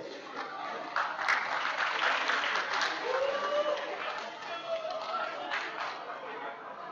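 An audience applauds award winners at a 2016 men's forum leadership debate event, steady clapping swelling and continuing across the whole stretch, with a voice on the microphone over it.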